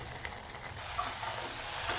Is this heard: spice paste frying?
yes